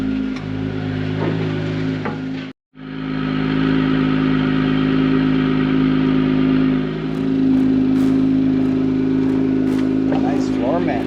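An Acura NSX moves off with its engine running, heard from inside the cabin as a steady mid-pitched drone with a brief cut, then a slight rise as it pulls away, with people talking over it.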